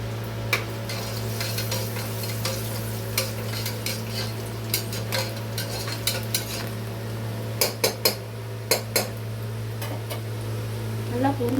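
Tempering spices crackle in a pan under a steady low hum, while a utensil stirs and clinks against the metal in scattered knocks, some in quick clusters.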